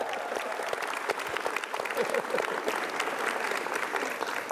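Audience clapping at an Indonesian stand-up comedy show, a moderate burst of scattered hand claps that keeps steady for a few seconds, heard from within the crowd.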